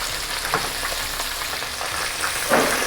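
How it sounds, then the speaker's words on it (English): Pork ribs for crispy Marmite ribs deep frying in hot oil, a steady dense sizzle throughout with a few louder crackling bursts, close and alone with no talking. "So we're going to fry this for a while."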